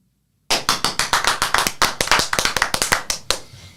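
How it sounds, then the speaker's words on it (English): Close, crisp clapping breaks out suddenly from an audience after a talk, a dense run of sharp hand claps that continues steadily and thins out near the end with no talking over it. "Yes, claps."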